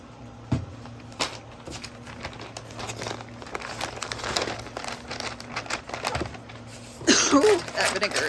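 Butcher paper wetted to make it more pliable crinkles and rustles steadily while smoked pulled pork is wrapped fat side up, with a louder burst of crumpling near the end.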